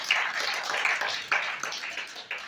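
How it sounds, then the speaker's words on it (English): An audience applauds at a public speaking event, with individual claps standing out as a thin, fairly close patter. The clapping runs for a couple of seconds at moderate loudness, and no one speaks. "Give them a round of applause for"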